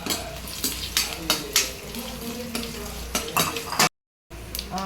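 Dried red chilies, curry leaves, asafoetida and chana dal fry in hot oil for kara kulambu while a spoon stirs them, giving a loud close sizzle with repeated scraping strokes, cut by a brief silent gap near the end.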